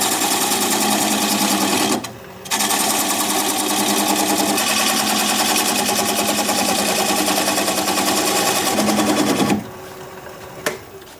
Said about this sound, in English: I'm just going to grab a 3/8 inch standard grind bowl gouge